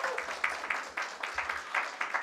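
A church congregation claps together in thanks to God, a fairly soft run of sharp hand claps in uneven bursts, some slightly rhythmic, with no voices over them.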